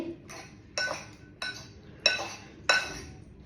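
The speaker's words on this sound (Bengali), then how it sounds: "এবার সুন্দর করে সালাদটা মেখে নিতে হবে" Tomato salad dressed with mustard oil being mixed in a bowl, with four or five distinct clinking scrapes of a utensil against the dish at irregular intervals over a low background hiss, no talking.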